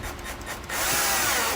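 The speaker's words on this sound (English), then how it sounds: "we're going to be using a 1 inch hole saw to drill out right there" A power drill fitted with a 1-inch hole saw bites into a plastic panel, starting with a softer lead-in and then grinding steadily at full loudness for the remaining second, close by with no talking.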